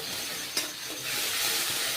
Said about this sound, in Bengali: এবার আমি ওই পেস্টটাকে, বিটের পেস্ট, ওটাকে আমি কড়াইতে নেড়ে নেব ভালো করে